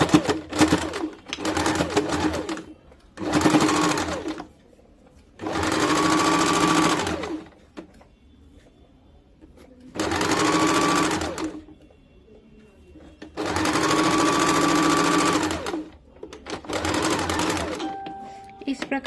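A sewing machine stitching the side seams of a katori cut blouse runs in several separate loud bursts, short ones and longer ones of two to three seconds, with quiet pauses between them and no speech.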